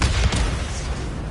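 A grenade blast in the video game Days Gone, a loud, dense rumbling boom that hits at once and slowly fades out.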